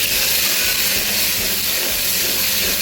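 Cumin seeds dropped into overheated oil for a spice mix with raw peanuts, giving a loud, steady, close hiss of sizzling that fills the whole moment without any talking.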